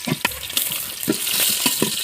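Onion, garlic and chilli frying for a beef biryani, a soft sizzle beneath repeated scraping stirs and clacks of a spoon against the pot, close and moderately loud.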